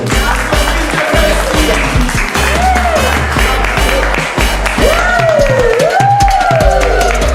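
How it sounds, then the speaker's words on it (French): An audience at a cultural gathering applauds to welcome a presenter, a loud continuous clapping crowd with music playing over it and voices calling out, including rising shouts near the end. "Est-ce qu'on peut applaudir?"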